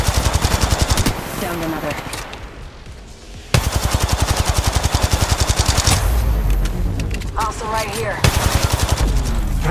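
Rapid automatic gunfire from Apex Legends Mobile, a battle royale game, rattles in loud sustained bursts with short pauses between them, while game voice lines speak over the shooting.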